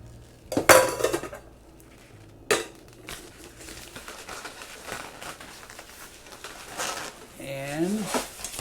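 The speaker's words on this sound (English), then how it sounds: "Frying pan." A frying pan and other metal camping cookware clank and clatter in a few sharp knocks, with lighter rattling between and a voice speaking briefly near the end.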